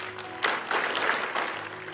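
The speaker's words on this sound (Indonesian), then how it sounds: "tepuk tangan dong" Applause from a church congregation during a morning sermon in Bandung, a broad steady wash of clapping at moderate level that swells in a few bursts over about two seconds.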